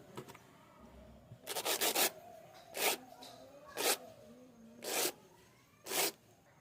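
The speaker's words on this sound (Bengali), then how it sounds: "এবার ব্রাশ দিয়ে খুব সুন্দর করে পরিষ্কার করে নেওয়া যাক" Brush scrubbing a peeled rudraksha seed clean, heard as about five or six short bristly scrubbing bursts at a steady, unhurried rhythm, close and fairly quiet, each lasting about half a second between brief pauses.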